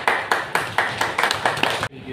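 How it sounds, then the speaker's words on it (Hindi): Workshop audience clapping in unison, a loud, steady rhythmic beat of about eight strong claps across two seconds that stops abruptly, leaving near silence. "एक बार प्लीज़ आप अपने लिए ताली बजाइए"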